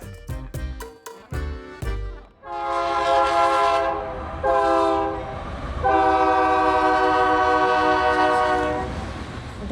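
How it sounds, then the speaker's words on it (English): A train's horn sounds repeatedly, loud and close, after a series of sharp clanks, then long sustained horn blasts as the train rolls through. "then we hear a train coming through"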